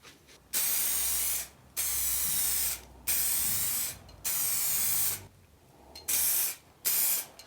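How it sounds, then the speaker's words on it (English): A second coat of clear lacquer is sprayed onto an external door handle from a Renault Clio MK3. Six loud, close bursts of spray-gun hiss are broken by short silent pauses. "this is the second coat of clear going on"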